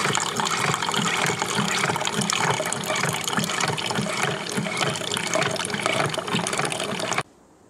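Coffee maker brewing, a steady loud hiss and gurgle of water running without a break for about seven seconds, then it stops abruptly.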